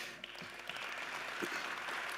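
An awards ceremony audience in South Australia claps continuously, a soft, even wash of many hands heard from a distance with no clear individual claps standing out.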